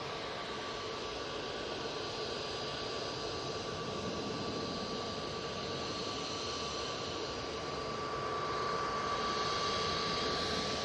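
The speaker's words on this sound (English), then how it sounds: "EasyJet's now coming on." An EasyJet Airbus A320-200 at Manchester Airport gives off a steady, distant jet roar with a faint tonal whine, growing slightly louder toward the end, no voices.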